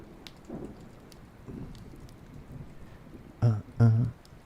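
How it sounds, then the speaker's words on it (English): Steady rain patters throughout a thunderstorm, with two loud, close thumping bursts near the end; no voices are heard. "a nice thunderstorm in the background"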